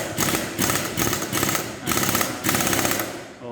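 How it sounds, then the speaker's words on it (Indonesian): Pneumatic impact wrench tightening bolts on the CVT of a Yamaha NMax scooter during routine service, firing in several loud rattling bursts of about half a second each with short gaps, close by. "Pengencangannya kita bisa gunakan impact supaya tidak usah menggunakan tracker"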